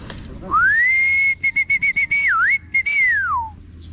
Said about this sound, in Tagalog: Sipol na ako para makauwi na yung kalapate ko.